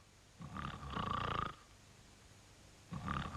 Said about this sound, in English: He was snoring.